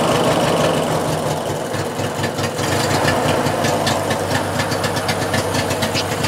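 A Briggs opposed-twin engine on a Craftsman LT1000 lawn tractor, just fitted with a swapped carburetor, running steadily at close range with a loud, even mechanical chatter and rapid firing pulses throughout.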